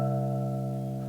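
A modelled piano tone built from longitudinal string modes, a sustained harmonic note with a faint, higher ping, heard alone and fading only slightly.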